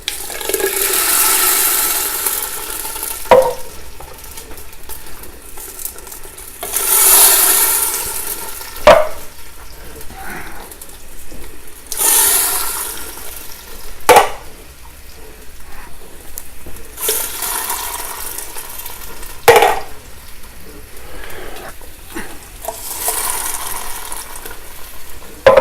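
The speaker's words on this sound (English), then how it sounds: "I'm going to then put the rest of the cans of sauce in" Canned tomato sauce poured from several cans into a pot and stirred, with repeated wet sloshing and scraping in separate bursts, close and moderately loud, no talking.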